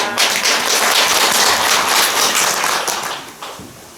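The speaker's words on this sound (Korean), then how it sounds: "오늘은 박수 한번 더 치셔야 됩니다" Dense, steady clapping from a temple congregation during a New Year prayer service, filling the space evenly and then thinning out and fading near the end.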